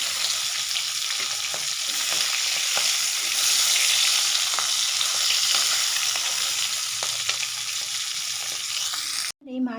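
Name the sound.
fish frying in oil in a pan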